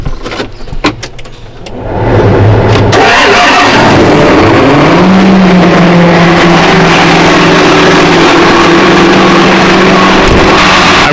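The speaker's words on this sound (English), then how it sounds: "I'm gonna get both of these started up. They haven't been ran in a while, so I'm gonna let them warm up" Two tractors, including a 620, that have sat unused for a while are started one after the other and left idling to warm up. A loud, steady engine rumble fills the space close by.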